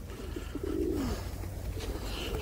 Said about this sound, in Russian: посмотрите, сколько голубей.